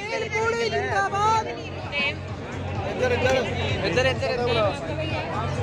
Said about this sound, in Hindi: काफी ज्यादा भीड़ है